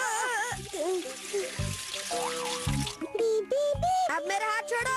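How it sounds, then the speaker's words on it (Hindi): Hands held under a running tap in a Hindi cartoon, a steady hiss of flowing water beneath animated character voices and chattering music-like tones throughout. "चलो पानी के नीचे हाथ रख के देखते हैं।"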